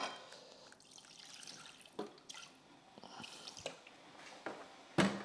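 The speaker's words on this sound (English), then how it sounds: "with clean water from the filter" Clean water trickling and dripping from a household water filter, soft close splashes and drips in an irregular rhythm with a sharper splash near the end, no talking.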